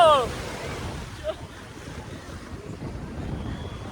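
Sea waves at Digha beach roll in as a steady, broadband wash of surf mixed with wind noise on the microphone, moderately loud and continuous throughout, with no talk over it.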